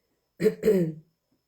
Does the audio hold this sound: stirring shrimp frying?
no